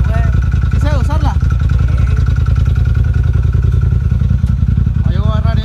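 A motorcycle engine runs loud and close in a Culiacán setting, a steady throbbing idle with rapid regular pulses, briefly revved near the start and again at the end, while people talk over it.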